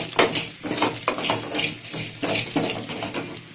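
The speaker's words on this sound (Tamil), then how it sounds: "எண்ணெய் ஊற்றி கடுகு போட்டு கருவேப்பிலை காஞ்ச மிளகாய் போட்டு ஜீரகம் போட்டுக்கோங்க" Mustard seeds, curry leaves, dried chillies and cumin hit hot oil for a Kerala-style mor kuzhambu, crackling and sizzling loudly and steadily up close, with bursts of popping throughout.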